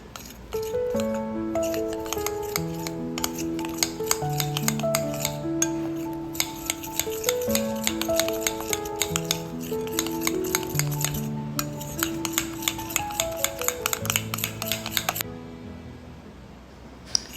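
A whisk beats gram flour batter with spices in a bowl, making rapid, light clicking and scraping strokes that continue steadily beneath prominent melodic background music.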